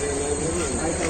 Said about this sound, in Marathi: तर आता ट्रेन आले